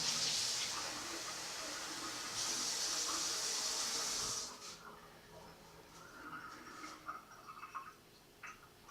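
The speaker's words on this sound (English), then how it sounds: "3/4 cup of lukewarm water." Lukewarm water is poured into a bread mix in a home kitchen, a steady close hissing stream for about four and a half seconds that then stops, followed by quieter clinks and handling sounds.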